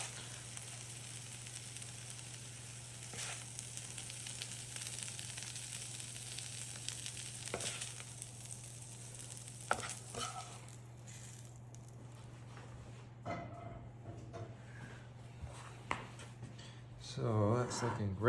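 Browned pork sizzles steadily in a hot pan while being stirred, with a continuous frying hiss, occasional scrapes and louder stirring toward the end, and a voice speaking intermittently.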